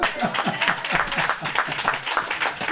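A church congregation applauds to acclaim the Lord, with steady, dense clapping running through the whole moment and a few voices mixed in.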